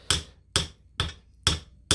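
A hammer strikes wire to flatten it for wire wrap jewelry, five sharp metallic blows at an even rhythm about half a second apart, close and clear with no talk.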